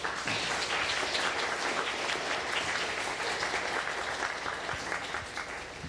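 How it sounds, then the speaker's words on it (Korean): An audience applauds steadily to welcome a guest lecturer, a former ambassador, at a global citizenship education lecture in Gyeongju, a dense, even wash of clapping lasting throughout and easing slightly near the end. "큰 박수 맞이해 주시기 바랍니다."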